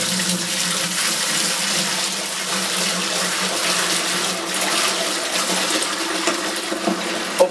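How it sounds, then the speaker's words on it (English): Freshly brewed imperial stout wort is dumped straight from the kettle into a fermenter, hops and all, making a steady, continuous gush of pouring liquid close by, with no talking throughout. "it is time to get this bad boy into the fermenter. So you know my method. Dump it."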